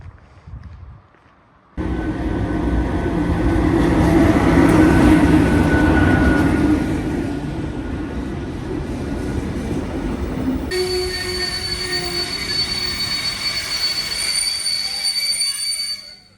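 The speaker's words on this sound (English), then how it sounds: "Ah yes, here's the train." A train rolls in close by with a steady rumble, its wheels giving off a high, sustained metallic squeal as it slows.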